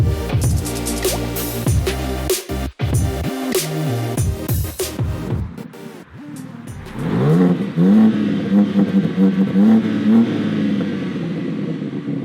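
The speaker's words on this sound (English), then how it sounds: "Floor it, go to the high-speed lane." A BMW M3 Competition sports sedan accelerates hard, its engine loud and close, revving up through rising pitch sweeps with a shift break before pulling strongly again.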